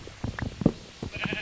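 Short sheep bleats from Minecraft livestock come in several separate calls over a quiet game backdrop, with no talking.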